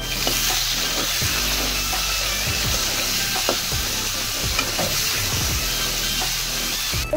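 Potatoes stir-frying in a pan, with a loud continuous sizzle broken by repeated scraping strokes of a spatula against the pan, close up and with no voices.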